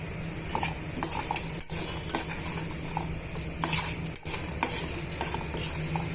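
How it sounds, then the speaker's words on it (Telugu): Fenugreek and tamarind fry in a pan while a metal spoon stirs and scrapes, sharp clinks over a constant background sizzle, with no talk. "ఇవన్నీ బాగా వేగనిద్దామండి ఇవన్నీ బాగా వేయించుకోవాలి"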